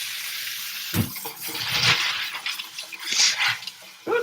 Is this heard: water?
yes